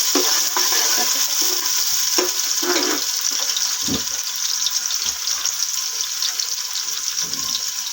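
Onions frying in a pan for a shalgam gosht (turnip and meat curry), a steady broadband sizzle with scattered stirring clicks and scrapes throughout, close and fairly loud, no talk.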